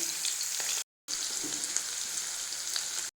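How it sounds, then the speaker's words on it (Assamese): Chopped onions sizzle and crackle steadily in hot oil for a local chicken curry, a close, continuous frying hiss broken by one brief gap of silence. "আৰু ইয়াত ৰঙা হোৱালৈ মই ভাজি থাকিম পিঁয়াজখিনি।"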